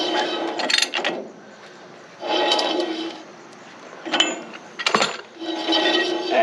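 Equipment trailer wheel hub spun on its freshly packed bearing, a close mechanical whirring and grinding that rises in several separate spins, each fading out, with a few knocks and clicks between them.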